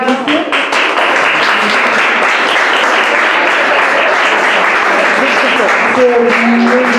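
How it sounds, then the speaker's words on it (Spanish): Sustained audience applause fills a lecture hall at a conference on Palestine, loud and steady from start to finish, with a few voices faintly audible near the end. "Otro aplauso para estos grandes maestros"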